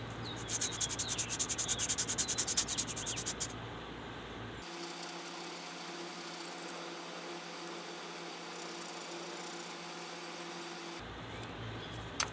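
Sandpaper rubs around a nut under the bonnet of a 1973 Plymouth Valiant: a fast raspy scratching at first, then a steadier, softer abrasive hiss with a low hum behind it, close and continuous.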